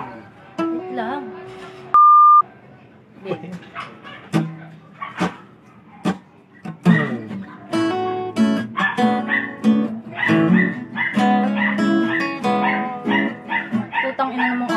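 A dog yips and whimpers in short bursts, with a loud beep early on and a person talking over the noise.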